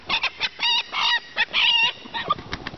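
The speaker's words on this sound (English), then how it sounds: "chickens are doing what chickens do" Backyard chickens clucking and calling in a garden, a string of loud, close bursts of squawks and clucks with brief pauses between them, no one talking.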